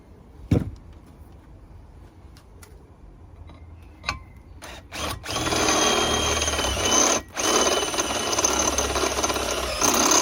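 A power drill with a step drill bit whines loudly and steadily, starting after a few quiet clicks and knocks, with one brief pause before it continues running.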